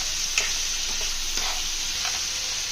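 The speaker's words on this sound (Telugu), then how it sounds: "ఆనియన్ టమాటా ఆయిల్లో మగ్గేలా బాగా కలుపుకోవాలి" Tomato and onion cook in hot oil in a pan while being stirred, a steady close sizzle with faint scraping strokes of the spoon running underneath.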